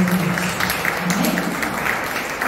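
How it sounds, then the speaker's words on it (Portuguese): During a lively church service, a congregation applauds loudly and continuously, with a low musical tone and faint voices beneath the clapping. "Então aplauda Jesus bem forte."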